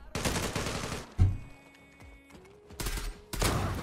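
A rifle fires in the online shooter Zula, with loud, rapid bursts of gunshots split by a short pause holding quieter game sounds, then another burst and a final burst.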